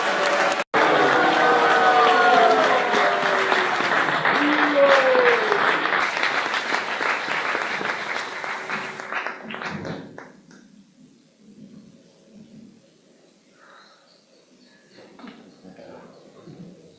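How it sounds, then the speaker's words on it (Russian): An audience bursts into loud applause to welcome a speaker. The clapping is mixed with a few whistling or voiced tones, then fades out after about ten seconds, leaving a quiet room with faint shuffling. "Давайте поприветствуем ее крупными аплодисментами"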